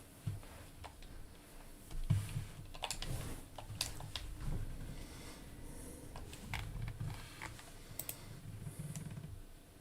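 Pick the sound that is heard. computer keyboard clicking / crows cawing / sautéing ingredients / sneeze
computer keyboard clicking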